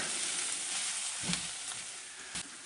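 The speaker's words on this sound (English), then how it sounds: "We're just going to put that on top of the cooking onions and celery and stir it up" Onions, celery and herbs sizzle quietly in a pan, a soft continuous frying hiss with a couple of faint stirring scrapes.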